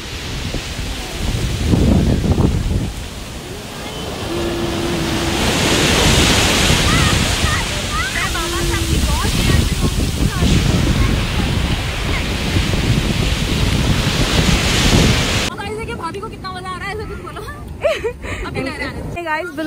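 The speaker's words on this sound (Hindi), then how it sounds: "बहुत ऊंची लहरें आ रही हैं गाइस।" High ocean waves crash and surge steadily on a beach in Karachi, a loud continuous roar with swelling breakers, while voices talk over the surf and a sharp change in the sound comes near the end.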